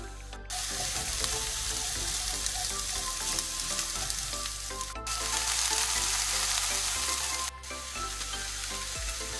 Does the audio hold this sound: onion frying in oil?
yes